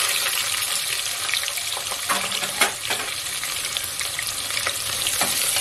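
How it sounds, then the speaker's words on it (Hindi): Sliced onion fries in hot oil with cumin in a pressure cooker, giving a continuous close sizzle broken by occasional stirring clinks and scrapes. "अब इसमें 1 बड़ी प्याज को मैंने स्लाइस कर लिया था वो ऐड कर दूंगी।"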